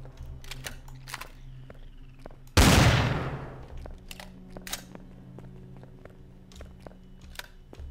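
A single heavy gunshot in Empyrion Galactic Survival cracks out sharply partway through, its roar decaying over about a second, amid quiet game ambience and faint clicks.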